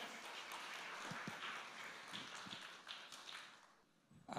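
Audience applause for producer Ishari Ganesh at a film event for Vendhu Thanindhathu Kaadu: steady crowd clapping with a broad wash of noise, continuous for several seconds and fading slightly near the end.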